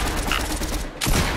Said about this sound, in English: I headshot him with the pump